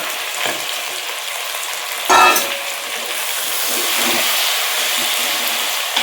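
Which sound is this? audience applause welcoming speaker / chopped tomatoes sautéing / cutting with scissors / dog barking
chopped tomatoes sautéing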